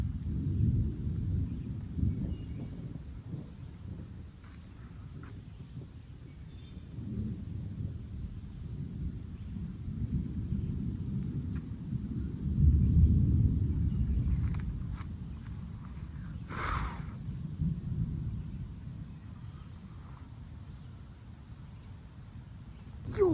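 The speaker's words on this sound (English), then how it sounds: "It's just constant thunder." Low, constant rumbling thunder rolls through a lightning storm, swelling to a louder peak midway, heard outdoors with no talking.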